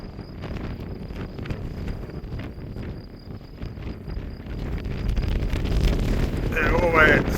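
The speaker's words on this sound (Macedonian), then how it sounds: "Многу ветер дува." Strong wind sweeps through the village of Šeleverci in Macedonia, a constant rushing roar against the microphone that swells louder toward the end, where a voice briefly speaks.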